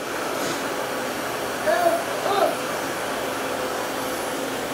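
A child runs a household vacuum cleaner, a steady whirring drone with a couple of brief surges as it is pushed around, fairly close with no speech in this moment.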